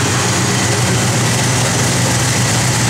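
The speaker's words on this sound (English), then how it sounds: "Good sound of big block." A 1967 Chevrolet Chevelle SS big-block V8 with a mild cam, running on pump gas, idles with a steady, close, continuous low rumble and no talk.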